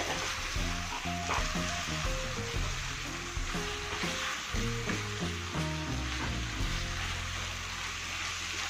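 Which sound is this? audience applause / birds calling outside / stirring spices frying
stirring spices frying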